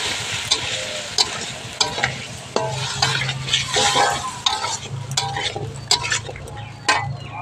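Potatoes and chickpeas frying in a spiced pan are stirred with a utensil, giving repeated scraping and clinking strokes over a steady, close sizzle, with no talking.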